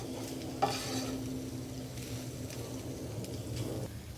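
Macaroni pasta fries in a pan over low gas while being stirred, a soft steady sizzle with light scraping strokes and one brief clink near the start, fairly quiet.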